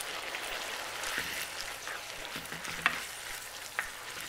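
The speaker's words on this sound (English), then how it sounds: "my sauce is starting to thicken up" Cinnamon pecan dessert sauce simmers and thickens in a pan, giving a faint, steady low sizzle with soft bubbling, broken by a few light clinks and scrapes of stirring.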